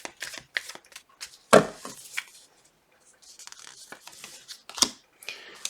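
Tarot cards are shuffled in short, irregular bursts of riffling and slapping, close and fairly quiet, with brief pauses between handfuls.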